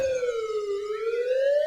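An ambulance siren in the video game Dude Theft Wars rises and falls in a steady wail, loud and close, with no talk over it.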